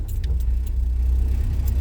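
A 1990 Volkswagen Golf GL MK2 engine idles with a steady low rumble, close by, with a few faint jingling clicks over the top.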